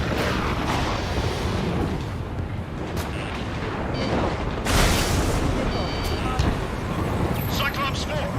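An enemy UAV is shot down and explodes in the flight combat game Ace Combat 7, with a burst of blast noise amid steady jet roar and radio voices talking.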